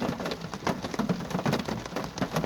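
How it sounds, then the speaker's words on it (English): Heavy rain pours down steadily in a graveyard at night, a dense hiss with distinct larger drops pattering close by, no voices. "It's definitely coming down heavier now, like in bigger droplets."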